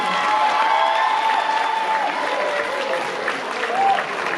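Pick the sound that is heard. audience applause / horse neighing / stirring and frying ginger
audience applause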